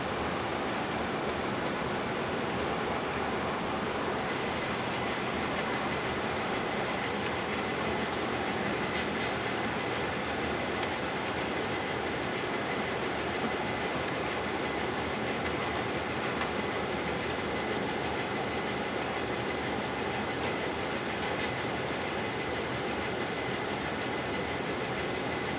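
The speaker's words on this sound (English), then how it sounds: "Here our train emerges out onto the peninsula for the first time." A model train runs steadily along a model railroad layout as it comes out of a tunnel onto a peninsula section, giving a continuous, fairly quiet rolling rumble with faint clicking from the track throughout.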